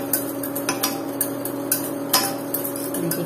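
Pineapple pudding mixture, tinted with added yellow colouring, is stirred in a pan. A spoon clinks against the side in steady, regular taps, close and clear over a constant low hum.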